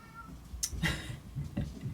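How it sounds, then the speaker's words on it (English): A house cat playing with its toy lets out a few short, faint meows in quick succession indoors, close by, over a low background hum. "If you couldn't hear him meowing."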